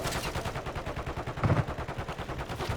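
Rapid automatic gunfire in a multiplayer shooter video game, a dense continuous stream of evenly spaced shots, loud and steady throughout with no talk.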